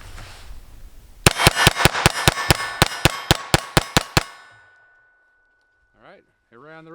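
A Sig P322 pistol fires CCI rimfire ammunition in a rapid string of about fifteen sharp, loud cracks over three seconds, then silence and a brief voice afterward.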